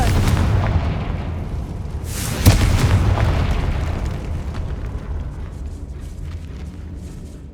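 A Confringo fire spell exploding in the video game Hogwarts Legacy: a single loud, deep boom with a sharp crack at its peak, sitting over a rumbling game background that slowly fades away.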